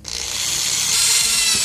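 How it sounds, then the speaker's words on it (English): A power drill with a 1/8 inch bit bores a hole, starting abruptly and rising into a loud, steady high whine with rough grinding underneath. Close and continuous, with no talking. "1/8 inch bit, go through the top first."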